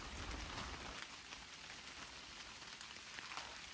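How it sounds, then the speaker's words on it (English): Rain falls steadily through a forest, a soft, even hiss of drops pattering on leaves and the ground, fairly quiet and continuous with no voices. "when it's raining like this"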